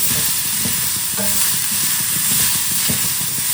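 Cabbage poriyal sizzling in a pan as it is stirred, a loud continuous hiss with scattered scraping and clinking of the spoon against the pan.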